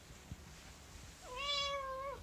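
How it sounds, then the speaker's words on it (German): A single drawn-out cat meow rises and then holds, close and clear, after a quiet stretch with faint room noise and no speech. "Das hier ist eine Katze."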